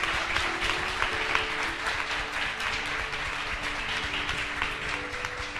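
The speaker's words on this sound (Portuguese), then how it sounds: "Uma salva de palmas." A congregation applauds during a church service at Igreja Semente de Fogo in Botafogo, a steady, dense wash of many hands clapping that holds evenly for several seconds with no speech over it.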